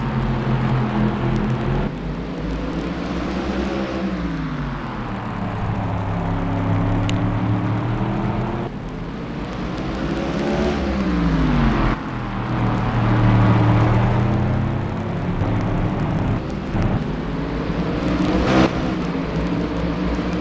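Race cars roar off the start of a PSRLA Cup Series race at Trois-Rivieres, a loud continuous engine drone with rising and falling revs as the pack accelerates.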